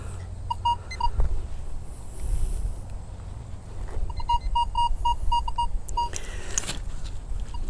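Metal detector at a playground tot lot sounding over a buried penny: a run of short, evenly spaced electronic beeps, then a pause, then another quick rhythmic series of beeps, close and clear over steady outdoor background noise.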